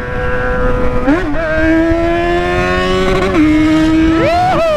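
A Yamaha XJ motorcycle engine revs hard and loud, pitch climbing and dropping through several gear shifts, close by with faint voices beneath.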